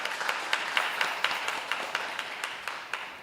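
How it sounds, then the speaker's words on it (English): Scattered, moderately quiet applause from the audience at an annual general meeting of a council on ageing, with individual claps standing out in an uneven rhythm. "give her a round of applause for that"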